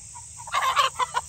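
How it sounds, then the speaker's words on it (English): A rooster crows in a chicken coop shared by older hens and young chicks hatched about three months earlier, giving a single, fairly close call of several rising and falling bursts against a faint background hum. "And here's the rooster"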